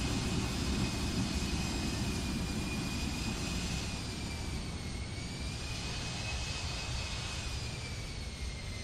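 Steady roar of Embraer E170 jet engines with thrust reverser deployed on one engine during landing rollout in a flight simulator game, a loud continuous whine and rumble holding for the whole span, no talk.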